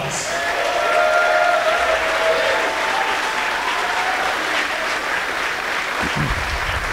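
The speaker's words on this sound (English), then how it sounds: "So give yourself a round of applause." A sold-out pro wrestling crowd applauds itself, loud sustained clapping and cheering from a packed venue, steady throughout with a faint voice briefly audible over it.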